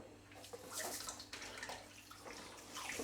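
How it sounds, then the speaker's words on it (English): Rice rinsed in a sieve under a running kitchen tap, a steady hiss of flowing water with shifting splashes as the grains are stirred, close and continuous with no talk. "Run it under the tap for a little bit."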